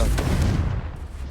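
A Confringo spell blast in the Hogwarts Legacy video game: a single heavy, booming burst at the start that rumbles and decays over about a second.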